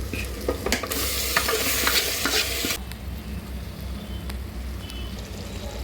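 Mutton pieces drop into hot oil with fried onions and ginger paste, giving a loud burst of sizzling and stirring that then settles into a quieter, steady frying hiss, with no speech.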